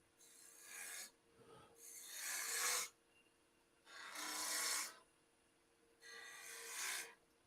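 A woodturning tool pre-shaping wood on a lathe makes four rasping, scraping strokes, each about a second long and separated by short pauses. The sound is faint and close, with no talk.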